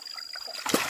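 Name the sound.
large fish splashing water in a basin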